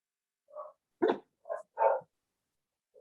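A dog gives four short separate barks spaced over a few seconds, fairly close and clear against silence.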